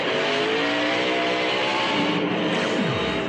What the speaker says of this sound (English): You could hear the rear end chattering where the brakes locked up.